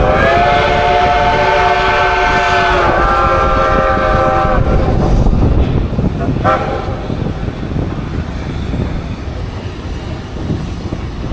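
A train pulled by F unit diesel locomotives passes close by with a loud multi-tone horn blast, then rumbling wheels and rail noise continue as the horn cuts off.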